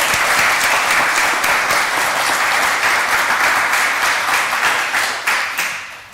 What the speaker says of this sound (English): one more round of applause for Debbie and Elaine